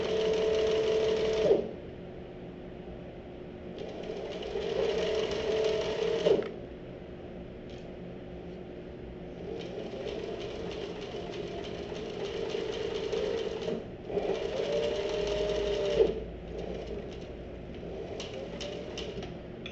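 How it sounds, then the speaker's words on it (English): A sewing machine stitches a seam on a canvas messenger bag. It runs in several steady bursts of whirring motor hum, a few seconds each, with brief pauses and clicks in between, close up. "so we sewed that seam down. Now we'll get this out of the machine"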